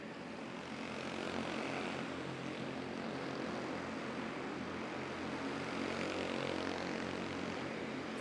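Quarter midget race cars lap an indoor track at the Delta Plex, their small engines a dense, continuous buzzing drone that fills the hall at steady volume.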